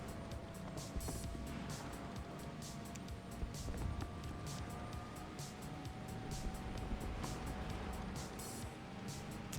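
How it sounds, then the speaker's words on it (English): A steady low tank engine rumble in War Thunder drones throughout, like a heavy vehicle idling or moving nearby, with constant broadband noise. "I can just hear engine noises."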